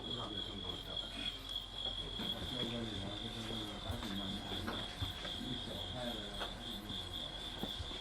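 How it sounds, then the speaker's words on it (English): Fighting crickets set face to face in a glass container chirp steadily in a dense, continuous rasping trill, close and loud, with scraping and rubbing sounds mixed in throughout. "the crickets are placed facing each other in their battleground"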